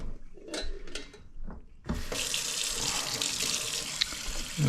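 Cold tap water gushes into a pot of just-boiled Olivier salad ingredients after the hot water is drained. It follows a few soft kitchen clinks, then starts abruptly and pours loud and steady to the end.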